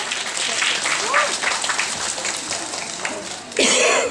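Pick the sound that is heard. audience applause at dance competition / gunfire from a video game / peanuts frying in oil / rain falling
audience applause at dance competition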